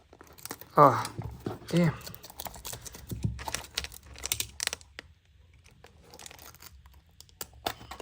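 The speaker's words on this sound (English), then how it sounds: "So let's start to unbox it." Packaging for a Tomica toy car, a Toyota Alphard, is torn and crinkled open in bursts of ripping and rustling up close, with a brief spoken exclamation and scattered clicks between quieter pauses.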